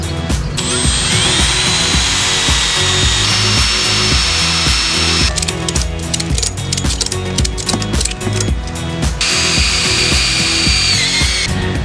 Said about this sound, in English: I guess we'll start with drilling them all